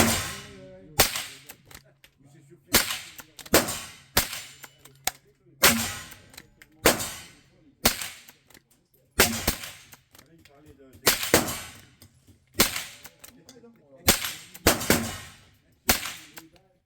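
Shots from a Derya TM22 shotgun fired outdoors, about a dozen loud sharp blasts at uneven intervals with echoing tails, a voice faintly heard between some of them.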